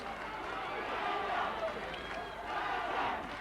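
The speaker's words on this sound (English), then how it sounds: "the crowd trying to get behind Gerald there to spur him on" A boxing arena crowd roaring and cheering to spur on a fighter, a dense, sustained swell of voices that rises and falls, with a commentator's voice over it.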